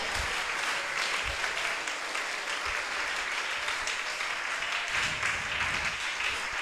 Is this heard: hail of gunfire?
no